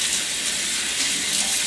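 A microfiber cloth is rinsed under a running kitchen tap, producing a steady, close, full gush of water with no pauses.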